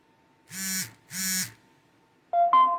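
A smartphone buzzes twice in short, even vibration pulses, then after a brief pause plays a quick two-note electronic notification chime, all close and clear in a quiet room.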